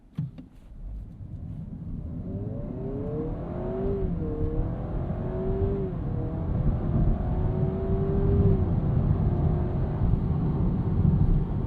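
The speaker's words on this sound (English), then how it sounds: "let's get this off the line in S Plus automatic and see how it does" A 2026 Honda Prelude coupe pulls away from a stop in S Plus mode with the automatic transmission, its engine note climbing and shifting steadily over about twelve seconds, loud and continuous with no talking.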